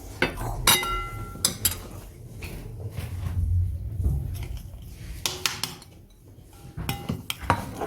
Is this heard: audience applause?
no